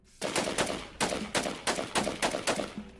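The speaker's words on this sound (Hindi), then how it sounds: "आईएसआईएस के आतंकी उस पर गोली चलाते हैं" Rapid bursts of gunfire in quick succession, loud and sharp, several volleys with brief pauses between them, no voices; ISIS fighters firing at a tank.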